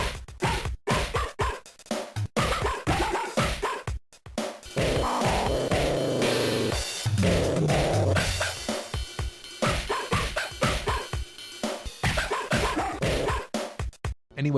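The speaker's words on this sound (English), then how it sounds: "Boney's is just his bark. I've always thought it was like super cute when he just barks out those little melodies." Boney the dog in the Mother 3 video game barks out a short melody, a rapid string of pitched yips and bow-wows over game music, loud and rhythmic with brief pauses.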